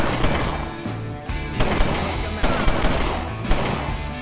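Rapid video game gunfire in a police tactics game, dense bursts of automatic shots and repeated loud cracks filling the whole stretch without pause, with no talking.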